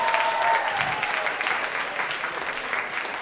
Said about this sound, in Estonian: Teeme kõigepealt suure aplausi meie videomeestele